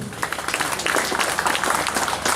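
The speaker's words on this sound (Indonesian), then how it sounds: "Tepuk tangan untuk Mas Irul" An audience breaks into applause for Mas Irul during a talk on the teachings of national teachers, a brief burst of dense close clapping with some voices mixed in.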